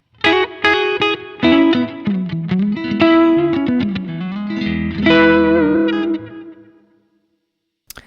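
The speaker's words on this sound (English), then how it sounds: "the last one I want to show you is the hall" Guitar notes and chords drenched in hall reverb from a Zoom MS-50G multistomp pedal, the phrase fading into a long spacious tail before near silence and a brief click at the end.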